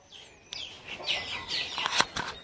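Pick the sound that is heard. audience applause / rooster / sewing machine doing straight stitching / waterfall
rooster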